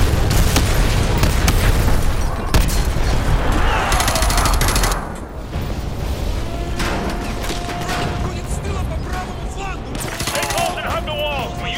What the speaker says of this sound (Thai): ระเบิด